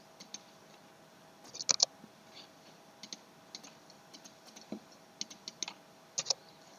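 Computer keyboard typing at a drafting workstation, light scattered key clicks in short irregular bursts with brief pauses, close and fairly quiet.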